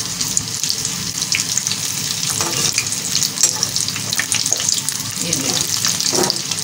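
Egg pakoras bubbling in hot frying oil, a close, busy sizzle with crackles and small pops throughout, while a voice briefly speaks over it.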